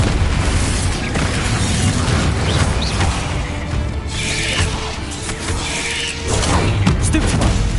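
Explosive spells from the video game Hogwarts Legacy go off in a dense, continuous barrage of booms, bursts and crashing impacts, loud and unbroken throughout with no talk.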